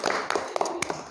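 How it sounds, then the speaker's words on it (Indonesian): A small group claps hands during a campus ice-breaking game session, with a few sharp, uneven bursts of claps close by over a short stretch. "tepuk tangan dulu lah"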